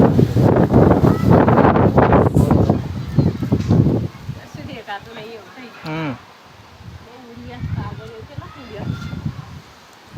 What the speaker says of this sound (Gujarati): પવન જ બહુ છે